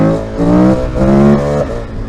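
A KTM motorcycle engine revs loud and close, its pitch climbing and falling across a couple of throttle blips, with a steady mechanical drone underneath and no voices.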